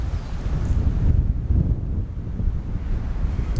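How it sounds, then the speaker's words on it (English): Strong, steady, cold wind on Fukue Island, Nagasaki, Japan, buffets the microphone with a loud low roar, gusting slightly throughout, with no voices. "It's cold outside and it's windy. really windy."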